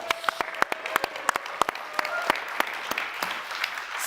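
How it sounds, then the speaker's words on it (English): A conference audience at a tech keynote announcing a partnership claps in a short, sparse burst, individual hand claps distinct and uneven rather than a full ovation. "I think we can clap for that."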